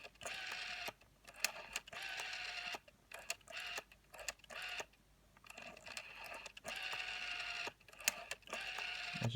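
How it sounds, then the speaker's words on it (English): The rotary dial in the handset of a 1983 BT Contempra telephone turns and returns several times, each pull giving a quiet whirring run of clicks split by short pauses, close up and faint, with no talking. "it's a nice dial on a much smaller scale than a regular rotary dial, of course, because it has to fit on the handset, but has a nice sound to it."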